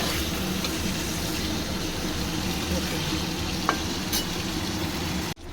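Hilsa pieces, freshly flipped, fry lightly in a pan with an even, continuous sizzle at close range, ending with a sudden cutoff.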